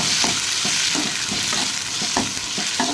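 Tomatoes sauté in a pan for a yellow pumpkin masala, a constant close sizzle of frying broken by regular scraping stirs of a spatula every half second or so, with no talking.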